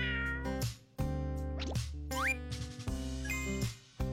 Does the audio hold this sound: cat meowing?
yes